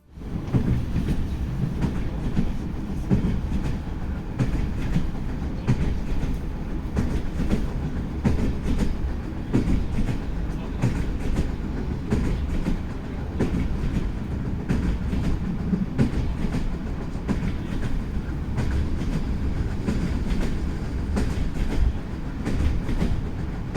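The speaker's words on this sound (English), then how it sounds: "so here's some train sounds, sound atmosphere." A train rumbles steadily from inside, with low rolling drone and rhythmic clacking of wheels over the rails, no voices.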